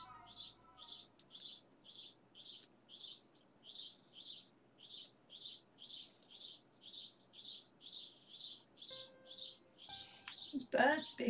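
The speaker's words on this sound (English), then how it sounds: "Birds being really loud." Birds chirping loudly outside, a rapid regular series of about twenty bright, evenly spaced chirps repeating without pause, ending in a burst of busier, louder calling.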